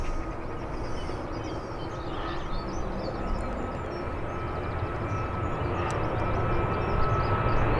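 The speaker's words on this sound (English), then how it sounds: "Jet2 off to Alicante." A Jet2 airliner takes off from Birmingham airport bound for Alicante, heard as a steady, distant broadband jet roar that swells slightly toward the end, with no one talking.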